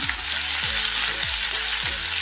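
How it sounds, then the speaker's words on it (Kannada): Crushed garlic fries in a pan for a spinach dish, a loud, steady close-up sizzle with a few soft stirring scrapes repeating underneath, and no voices. "ಸ್ವಲ್ಪ ಫ್ರೈ ಆಗಬೇಕು ಇದು ಬೆಳ್ಳುಳ್ಳಿ ಈಗ ಸ್ವಲ್ಪ ಫ್ರೈ ಆಗಿದೆ ಬೆಳ್ಳುಳ್ಳಿ"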